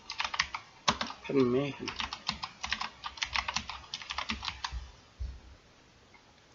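Rapid clicking of a computer keyboard as a chart title is typed in a spreadsheet exercise, close and crisp in quick bursts, with a spoken word partway through.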